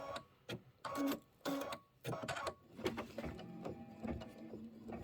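An embroidery machine stitching trimming guidelines on a quilt block in a hoop, giving bursts of rapid mechanical rattling and whirring, with pauses between runs and then steadier stitching at close range.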